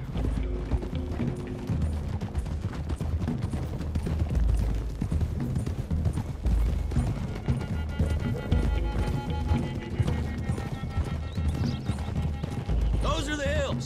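Horses gallop in Red Dead Redemption 2 with a steady, rolling clip-clop of hooves and an occasional whinny, heard close under continuous talking and game sound.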